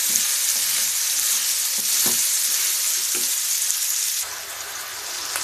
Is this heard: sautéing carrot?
yes